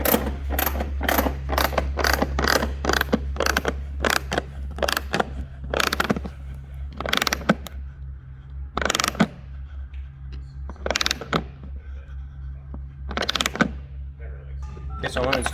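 Diving board mounting hardware being tightened, a series of close rhythmic ratcheting bursts, rapid at first and then spaced out, over a steady low hum.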